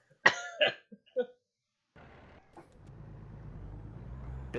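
A man coughs three times in quick, sharp bursts inside a truck cab, followed by quiet and then the low hum of a truck engine and passing road traffic.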